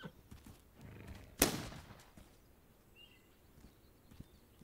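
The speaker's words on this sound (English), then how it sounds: "Run, horsey, run!" A horse in the video game This Land Is My Land gallops with soft hoof thuds and one sharp loud impact early on, fairly quiet and close, with rustling movement after.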